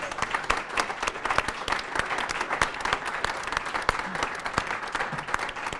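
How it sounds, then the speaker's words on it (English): An audience at a university sustainability institute's ten-year anniversary celebration gives a steady, dense round of applause, many hands clapping together at moderate distance without pause. "Let's give Don a round of applause."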